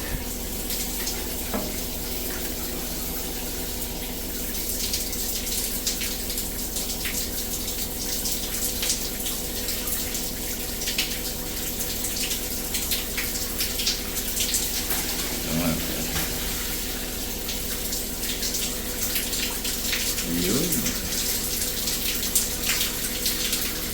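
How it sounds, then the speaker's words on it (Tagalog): Steady, strong rush of water from a shower head with a heater fills the whole clip, a broad continuous hiss with faint background sounds underneath and no talking. "malakas kasi yung daloy ng tubig"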